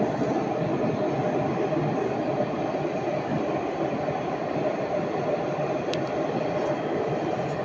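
A tram pulls into the Jean Médecin stop in Nice, a steady rumble and rolling hum of rail wheels that stays close and even throughout, with a short high squeal toward the end.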